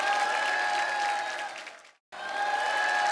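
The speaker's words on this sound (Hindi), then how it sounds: "एक बार सनी के लिए जोरदार तालियां।" Studio audience applause on a comedy talk show, a dense steady clapping with a sustained musical tone underneath, cut by a brief near-silent break before resuming.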